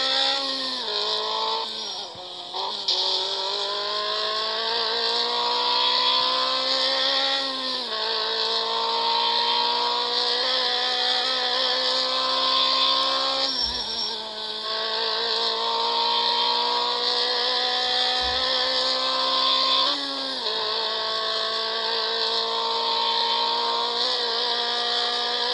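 A car engine in the Real Driving 3D game revs steadily and loudly, with its pitch rising and dipping in smooth sweeps and brief drops between throttle pushes, and no talking.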